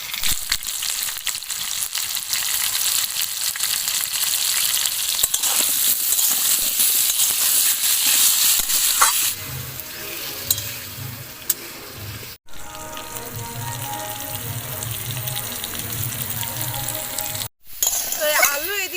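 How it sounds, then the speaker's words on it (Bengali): Potatoes frying in oil with turmeric and salt give a loud, dense sizzle that settles into a quieter crackle broken by stirring sounds and two brief cuts. "এরপরে আলুগুলো আমি সব তেলের মধ্যে দিয়ে দেবো। এর মধ্যে সামান্য একটু হলুদ আর নুন দিয়ে ভালো করে আলুটা কষিয়ে নেব।"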